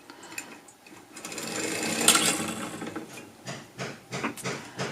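A hand-cranked sock knitting machine working a heel, a run of rhythmic mechanical clattering and whirring as the crank turns, rising and falling in bursts, close and alone.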